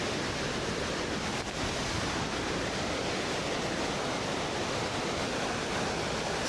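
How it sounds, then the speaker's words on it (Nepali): The Gai Kate waterfall in the hills beyond Dhorpatan rushes in a steady, loud, broadband roar of falling water that stays unbroken throughout, with no voices. "यो चाहिँ गाई काटे झरना"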